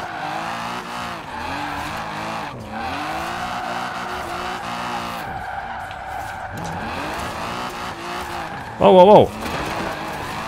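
Mazda MX-5 in Forza Horizon 4 drifting, its engine droning steadily with shifting revs throughout and a brief loud tire squeal near the end, with a short spoken exclamation over it.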